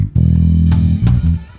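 A drum kit with a saturation effect engaged in Logic Pro X thumps out a short, loud, dense pattern of heavy low hits and brief cymbal bursts, lasting under two seconds.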